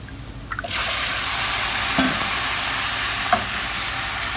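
Chicken meat is stirred in a hot pan, bursting into loud, steady sizzling after a few soft scrapes, with occasional utensil clinks against the pan; no voices.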